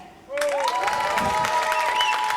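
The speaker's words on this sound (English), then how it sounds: "I think both those claps were for Professor Dog, not necessarily you there." Audience clapping at a live EVE Online PvP finals event, a sudden burst of applause with some cheering that holds steady for a couple of seconds.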